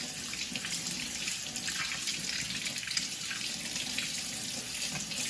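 Hot sweet potatoes are peeled in a bowl of cold water, with a steady close wash of running and sloshing water and soft handling noises and no talking.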